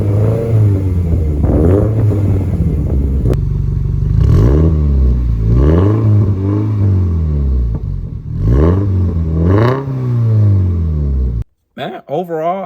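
Engine of a 2023 Toyota GR86 fitted with a MAPerformance header, revved repeatedly in loud, rising and falling bursts with a raspy exhaust note, close by and dropping off near the end.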